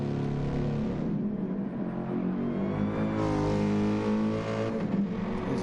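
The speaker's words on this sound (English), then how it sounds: "Lovely engine in that Merc, sounds really nice to me." A Mercedes race car's grunty V8 accelerates hard through a fast left-right section of a racing circuit, its engine note climbing steadily in pitch with a brief dip mid-way, loud and continuous with no talk over it.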